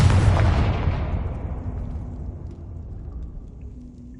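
A Confringo fire spell explodes in Hogwarts Legacy: one loud, deep boom that rolls out into a long fading rumble over about four seconds, with no other sounds on top.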